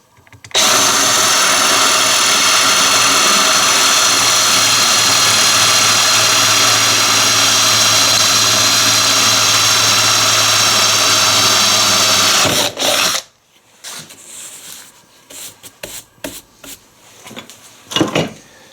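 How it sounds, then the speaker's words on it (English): Power drill with a masonry bit grinding steadily through slate tile, a loud continuous whine for about twelve seconds before cutting off, followed by quieter handling clatter. "We're going to drill right through."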